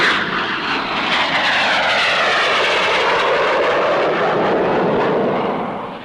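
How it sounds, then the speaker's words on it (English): Fleet Air Arm Supermarine Scimitar jet fighters roar past at a 1950s Farnborough air display, a loud, continuous broadband engine rush that sweeps in pitch and fades slightly at the end, with no talk. "Fleet Air Arm scimitars in action."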